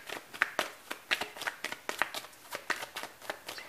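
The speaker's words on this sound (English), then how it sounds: "So I'm shuffling to clarify this Knight of Wands." Tarot cards shuffled by hand at close range, a rapid run of crisp riffling slaps and flutters in irregular bursts, alone with no talk.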